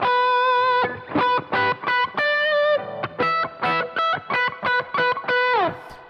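An electric guitar played through a worship-style pedalboard rings out in chimey overdriven distortion, a clean-edged sustained chord followed by a series of choppy, rhythmic strummed stabs, alone without talk.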